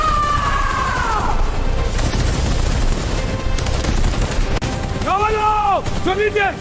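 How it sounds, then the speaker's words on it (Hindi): Rapid gunfire bursts in a Hindi drama shootout, dense and loud throughout, with shouting voices rising near the end. "गोलियां चल रही हैं।"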